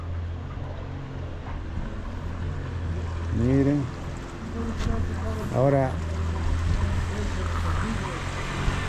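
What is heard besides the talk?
passenger motorboat (lancha) at a tourist boat service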